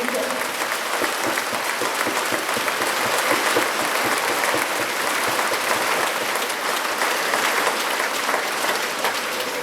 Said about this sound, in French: j'aimerais que vous applaudissiez en vrai